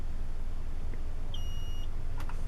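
A single short, shrill electronic chirp comes from a smoke detector converted into a water alarm and set off by water, alone over a steady hiss.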